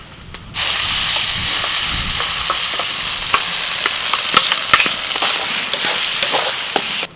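Ground green pea and chana dal paste with green chilli and ginger drops into hot oil with nigella and asafoetida, bursting into a loud sizzle, then crackles steadily under repeated close stirring scrapes.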